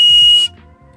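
A Malaysian nose flute, blown hard, gives a short, piercing high tone that cuts off abruptly after about half a second, leaving faint low background noise.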